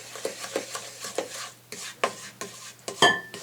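A utensil stirs an egg, water, vanilla and sugar mixture in a bowl, making quick repeated scraping taps and wet swishes about twice a second, close up, ending with a brighter clink against the bowl.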